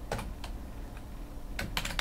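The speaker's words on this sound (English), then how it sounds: "I'm just typing enter and going to the next line." Keys tapped on a computer keyboard while typing Python code, with several quick clicks in two short bursts, near and fairly quiet against a low background hum.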